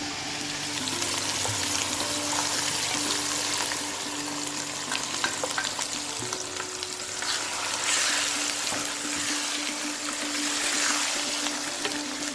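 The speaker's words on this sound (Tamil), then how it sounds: "இப்போ வந்து நம்ம புளிச்சக்கீரையை ஆட் பண்ண போகிறோம்." Pulicha keerai (gongura) leaves frying with crispy garlic in a pan, a steady dense sizzle and crackle with occasional stirring scrapes, close and continuous throughout with no talking.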